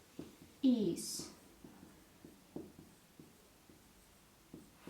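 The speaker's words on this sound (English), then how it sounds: "So let me write it first." Pen or marker writing an example sentence on a board, giving faint repeated scratchy strokes in an irregular rhythm, with a brief louder burst of speech-like sound near the start.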